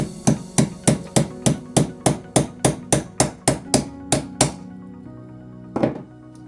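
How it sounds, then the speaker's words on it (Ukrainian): A hammer knocks a small motor's shaft out of a blower impeller using a punch, a quick, even series of about sixteen sharp knocks, followed by a pause and one last blow. "родер від іншого такого самого моторчика і молоток, просто вистукуємо вал моторчика з кричатки"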